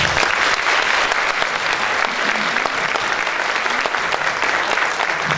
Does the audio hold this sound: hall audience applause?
yes